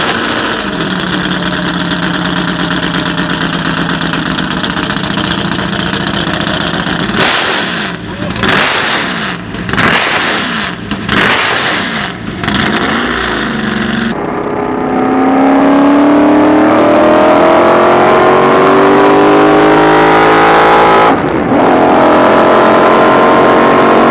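A McLaren M8A Can-Am race car with a Chevy ZL1 V8 screams around a track, loud and near, its engine rising and falling through gear changes with choppy bursts, then a long sweeping acceleration as it passes.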